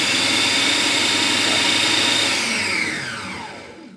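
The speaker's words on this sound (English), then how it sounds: "if I press this down, the motor is supposed to start" Hamilton Beach Proctor Silex appliance motor running loud and close with a steady whirring drone, then spinning down and fading over the last second and a half, no voices.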